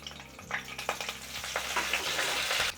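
Slit green chili and curry leaves hitting hot oil, with bursts of crackling sizzle and a few stirring clicks, close and steady over a short span.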